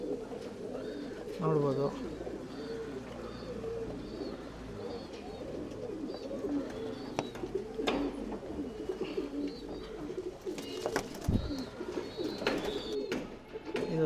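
Tumbler pigeons cooing in a loft, soft repeated coos and a few chirps close by, running under someone talking throughout.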